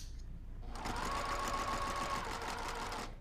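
Sewing machine chain sewing pieces of fabric, a steady fast whirring stitch that starts after a short quiet moment and runs continuously close up before easing off at the end.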